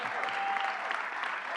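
Crowd at a political campaign stop for a $15 minimum wage applauding, brief steady clapping from an indoor audience, moderately loud and continuous.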